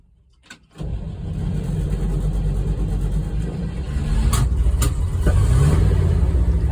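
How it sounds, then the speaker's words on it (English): A carburetted car engine, flooded with too much fuel, cranks briefly and then catches, running at a loud steady idle before revving higher near the end. "I had to keep the gas wide open for it to start because I gave it too much fuel"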